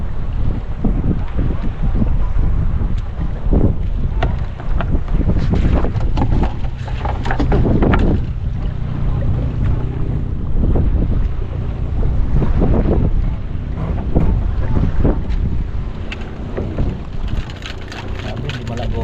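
Strong wind buffets a small boat out at sea, gusting roughly against the microphone over the churn of waves and water, while people's voices come through intermittently.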